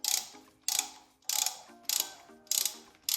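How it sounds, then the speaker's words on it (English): A hand tap cutting threads into a drilled hole for a helicoil on a 100-year-old Oldsmobile engine fuel mixer, giving close ratcheting clicks in repeated bursts about every half second, with no talk. "Just gonna tap it now for some threads."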